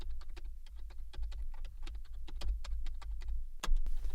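Rapid, even keystrokes on a computer keyboard click in a dense, steady stream of light taps over a low background hum, ending with a slightly heavier key press.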